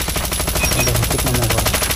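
Rapid automatic machine gun fire from the mobile shooter game Call of Duty Mobile, a loud continuous burst of evenly spaced shots with no pauses and no talk.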